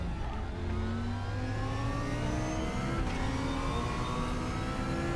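Super GT racing car engines in the game RaceRoom Racing Experience roar and rev steadily with rising whines of acceleration, loud and continuous throughout, with a few overlapping engine tones.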